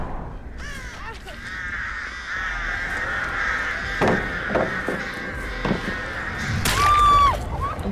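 Crows caw in the video game Dead by Daylight, several harsh squawking calls and fluttering bursts over a sustained eerie tone, with someone talking throughout.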